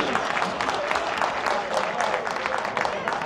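Audience applause at an academic conference honouring college and high school professors: a dense, steady wash of many hands clapping that holds at an even level from start to finish.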